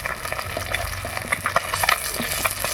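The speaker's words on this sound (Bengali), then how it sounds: "মাছগুলো লাল লাল করে ভেজে নিচ্ছি" Khaira fish frying in oil in a wok until reddened, a dense close sizzle with frequent small spatters and spatula clatters at an uneven rhythm, no speech.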